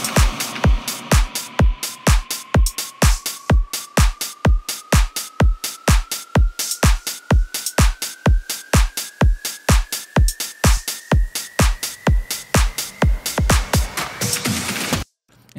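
Deep house drum loop built in Ableton, with a steady, punchy kick and hi-hats panned center, left and right, a shaker, and open hats trailing delay echoes, running loud and continuous before cutting off abruptly.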